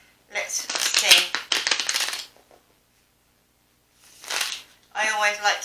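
A deck of tarot cards is shuffled close up in crisp riffling bursts: one long stretch, a pause, then two shorter rounds, with no voices over it.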